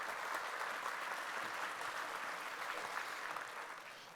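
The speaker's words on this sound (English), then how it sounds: "Let's give him a round of applause." Audience applause fills a hall at a 2025 corn and soy farm expo talk, a dense steady clatter of many hands that holds for about four seconds and fades slightly at the end.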